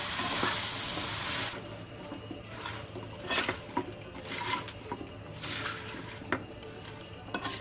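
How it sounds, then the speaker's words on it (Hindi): Chopped malta citrus fruit being stirred into spiced pickle masala in a pan, with a spoon scraping and clinking against the metal and a soft background sizzle, irregular mixing strokes at close range. "अब इसमें हम कटे हुए माल्टा को डाल देंगे। इसको मिक्स करेंगे।"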